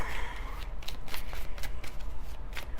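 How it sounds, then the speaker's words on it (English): A deck of tarot cards being riffled and shuffled, a rapid fluttering patter with a few crisp snaps, close and fairly loud. "My cards weren't cooperating for that last shuffle"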